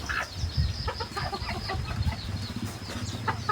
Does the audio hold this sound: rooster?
yes